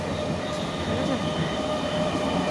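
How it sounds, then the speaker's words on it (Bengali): A train passing by on a track near Uttarpara, a loud continuous rumble with rolling wheel noise and faint squeal, steady throughout and heard close by. "এই দেখুন আরেকটা ট্রেন যাচ্ছে"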